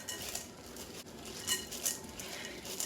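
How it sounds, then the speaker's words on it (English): A spoon stirs 16 ounces of white chocolate chips in a double boiler bowl over water, making soft, steady scraping and light clinking against the bowl. The sound is quiet and continuous, with a few brighter clinks, and nobody talks. "And give it a quick stir."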